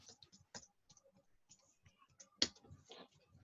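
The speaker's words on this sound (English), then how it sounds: "And yes, I am typing it." Faint, soft clicks of typing on a computer keyboard during an online class, irregular taps scattered at low level with a slightly louder click near the end, no talking.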